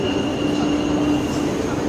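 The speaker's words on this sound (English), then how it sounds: "This train will take around 25 minutes to reach Schiedam." A train ride in the Rotterdam area heading toward Schiedam, with a steady loud rumble of the carriage and a faint high wheel squeal running throughout, no voices.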